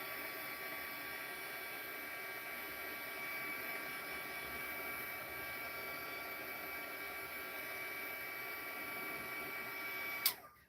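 A heat tool blows hot air to dry foam for a bunny craft, a steady close whine and rush that holds for about ten seconds and then cuts off with a click.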